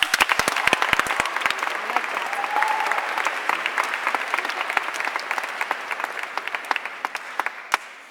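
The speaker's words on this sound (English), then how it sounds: "Give yourselves a round of applause." A crowd applauds steadily for several seconds, dense clapping that gradually thins and fades toward the end.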